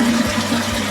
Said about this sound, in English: I'm gonna flush it and I'm gonna see if there's water coming out again